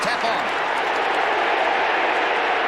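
A 1994 AFL match crowd, Footscray against Geelong, cheering and appealing for a fifty-metre penalty: a dense, steady roar of many voices filling the stadium without a break.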